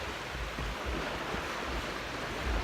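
Ocean surf washing in with the tide on a cold morning at Puerto Peñasco, Mexico, a steady broadband wash of water with low rumbling surges, heard alone with some wind noise.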